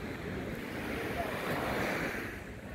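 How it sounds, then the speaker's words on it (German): Sea waves breaking into foam along the shore, a steady broad wash of surf with gusty wind noise on the microphone, continuous and fairly close throughout. "Überall, wo sich die Wellen so ein bisschen brechen"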